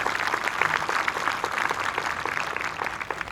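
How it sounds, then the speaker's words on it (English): A crowd claps steadily in sustained applause at a high school graduation, dense and even throughout, with no cheering standing out. "So if we could have a round of applause for all of them."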